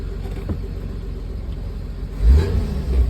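Idling engine of a 1973 Mercedes 280C as the car is shifted into drive, a steady low rumble that swells with a heavier thump midway, close by.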